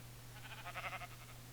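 Sheep bleating in a StarCraft game, a short run of pulsing bleats rising and fading over a steady low electronic hum.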